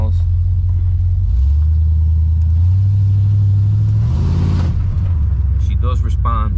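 A 1972 Chevrolet Chevelle convertible engine, a car that has been sitting for a while, revs up from idle into a loud, rising rumble and then falls back. Someone talks near the end.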